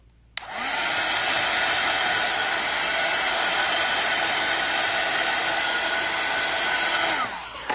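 Hair dryer switched on and running at a constant loud whir for several seconds, close by, then cut off near the end. No voices.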